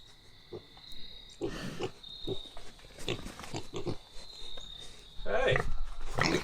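Piglets on a farm grunt and squeal in short bursts while scurrying toward the listener, growing louder near the end, with insect-like chirping and a steady high hum in the background.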